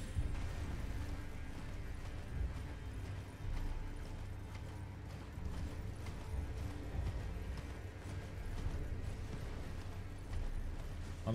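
Steady clip-clop of horse hooves in the video game Elden Ring runs throughout, dense and rhythmic under a noisy, mechanical background, with no talking.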